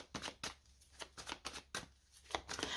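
Tarot cards are shuffled and dealt into a cross spread: a close, quiet series of crisp papery riffles and slaps, about eight short bursts in quick irregular rhythm, with no talking.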